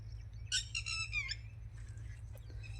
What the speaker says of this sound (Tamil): இந்த குருவி வேற கத்திக்கிட்டே இருக்குதுடா